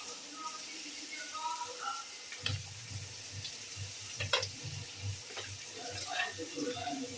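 A pot of fish curry with green mango bubbles and sizzles steadily while a spoon scrapes and stirs through it, with occasional knocks against the pan.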